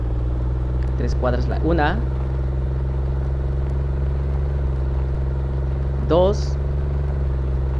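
Car driving in the Roblox game RoVille, a constant low engine drone running throughout while someone speaks briefly at the start and again near the end.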